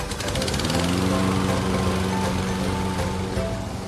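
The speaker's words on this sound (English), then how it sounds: "The lawn boy mower, see?" Lawn-Boy mower engine running steadily nearby, a loud rattling, chugging drone with a fast regular pulse and no pauses throughout.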